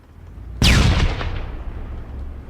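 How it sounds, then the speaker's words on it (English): An incoming missile striking nearby in the military shooter game Arma III: one sudden, loud, close explosion with a sharp crack, followed by a long rumbling decay. "I've got a missile incoming"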